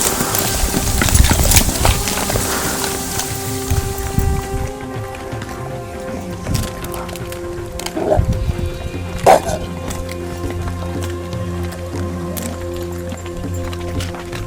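Dogs at a shelter in Tosya, Turkey, home to some fifty or sixty dogs, bark in scattered bursts at close to middle distance while people talk nearby.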